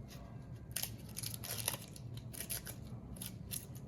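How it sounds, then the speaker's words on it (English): Thin papery outer skin being peeled off a halved onion, faint dry crinkles and crackles in short bursts, heard up close in a quiet kitchen. "Now you'll wanna peel that outer layer off."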